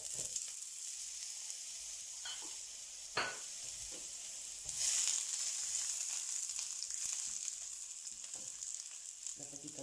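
Pepper strips frying in oil in a wide pan give a soft, continuous hiss, with a few brief clinks and stirring scrapes and a short louder sizzle partway through.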